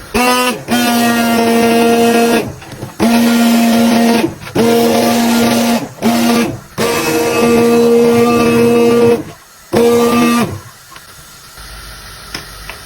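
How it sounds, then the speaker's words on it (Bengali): A kitchen blender whirs loudly, blending boiled lentils into dal, in several steady bursts of a few seconds each with short pauses between them, then falls quiet at the end. "ওইদিকে এখন আমি ডালটা ব্লেন্ডার করে নেব যেহেতু সিদ্ধ হয়ে গেছে"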